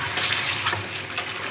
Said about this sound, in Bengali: এই যে মাছটি আমরা সুন্দর করে কষাই দিলাম, সুন্দর করে কষাই দিতেছি।